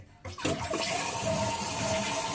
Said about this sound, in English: Now I'm going to flush it one time because it's completely full.